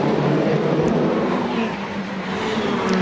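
WTCC touring race cars roar along the street circuit at Macau during the 2013 season, a loud sustained engine drone that swells and dips slightly, with no speech.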